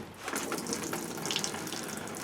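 Water pours steadily from a blocked sunroof drain hose on a 1991 Range Rover, a continuous close splashing trickle with no speech.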